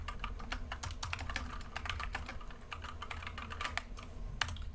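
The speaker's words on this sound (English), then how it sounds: "Sorry if my clickety clack keyboard is super loud." Rapid clicky typing on a TKL 60% mechanical keyboard, a dense run of sharp clacking keystrokes at an uneven fast rhythm, close and clear without any talk.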